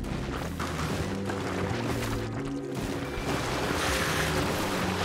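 Heavy rushing water floods through a Spelunky 2 level as a steady broadband wash with low rumble, loud and continuous, with no talking.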